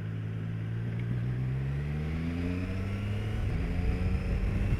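A Triumph Tiger Sport 660 motorcycle pulls away, its engine tone rising steadily through gears with quick shifter changes, a smooth continuous drone heard from the rider's position with rumbling wind noise.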